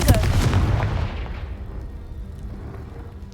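A Confringo fire spell in a video game detonates against a pile blocking a stairwell, one loud booming blast up front that rumbles and decays away over a few seconds.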